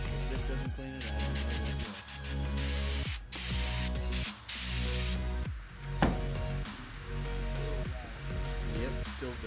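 Brake cleaner hisses from an aerosol can onto a dirty part of an old roller being prepped for paint, several bursts of loud spraying cut by short pauses while people talk alongside.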